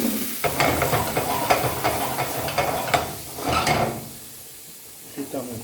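Salmon flambéed in a pan for a crayfish dish, giving close, crackling sizzle with clatters and short hissing surges that fade to a quieter simmer near the end.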